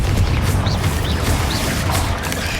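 Confringo blast spell in the Hogwarts Legacy video game, a loud, close, booming fiery burst with a heavy low rumble and sharp crackling bursts on top, continuous throughout with no speech.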